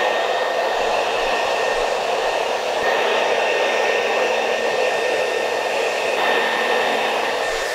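A hair dryer fitted with a diffuser blows loud and steady at close range while drying a clay styling product into hair during a haircut, a constant airy whir with no talk.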